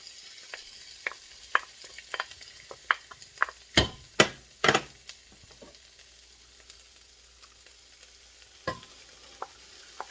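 Homemade tomato sauce goes into a pan with onions, garlic, basil and bay leaves, and it sizzles quietly under a series of sharp spoon clacks and stirring knocks close by.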